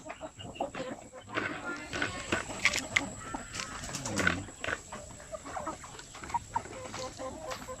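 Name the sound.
native Zampen chickens and chicks clucking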